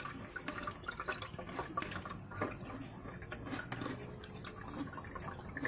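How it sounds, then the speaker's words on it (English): A metal spoon being rinsed under a running tap in a kitchen, steady close water flow with scattered drips and clinks, no voices. "I just rinse out my spoon, you know?"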